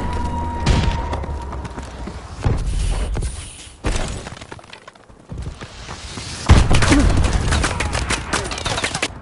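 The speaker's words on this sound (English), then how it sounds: "Friendly missile strikes incoming." Missile strikes in Call of Duty Advanced Warfare land as loud repeated booming explosions and crackling gunfire, with blasts overlapping in heavy bursts and brief lulls between them.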